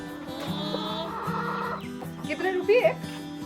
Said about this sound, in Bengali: এই মুরগিগুলো ওনাদেরই বাড়ির পোষা